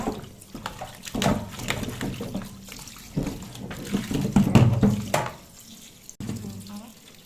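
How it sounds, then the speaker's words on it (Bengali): Tap water runs and splashes in a kitchen while boiled soybeans are squeezed out by hand, uneven gushes and drips rising and falling close by, with someone speaking between the bursts. "এখন আমি জল ধরিয়ে নেবো চিপড়িয়ে।"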